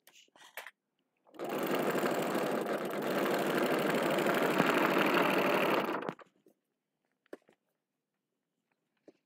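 Sewing machine stitching fabric, a steady, loud mechanical whir running for about five seconds close up, framed by brief handling clicks and near silence.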